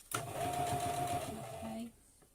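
A sewing machine runs in one steady burst of fast stitching over ribbon on a wet wipe holder cover, close and clear, then stops abruptly.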